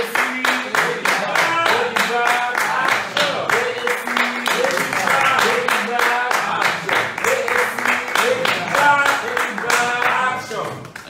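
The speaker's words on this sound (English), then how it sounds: "Please give him a round of applause." Audience applause for a guest at a political event about a presidential candidate stepping down; steady clapping runs throughout, with a voice speaking over it at times.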